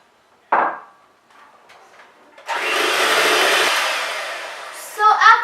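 An electric hand mixer whirs steadily for a few seconds while blending butter, vanilla extract and lemon zest, preceded by a brief knock and faint clatter, then ends with a short rattle.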